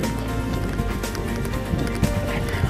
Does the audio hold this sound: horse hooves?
yes